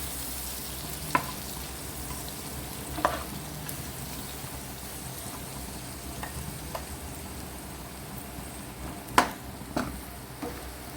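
Chorizo-stuffed Goan squid fries with masala in a pan, a low, steady sizzle beneath several sharp clicks and scrapes of a utensil stirring at irregular moments, with no speech.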